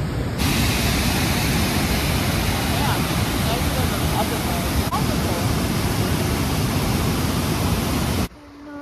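Steady, loud rushing roar of the biggest waterfall in Michigan, a dense continuous wash of falling water close by that holds evenly for about eight seconds before cutting off abruptly near the end.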